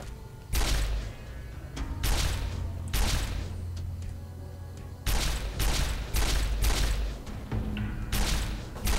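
Gunfire in the Fallout: New Vegas video game, with heavy shots in bursts and pauses over about nine seconds, loud and close with booming thuds.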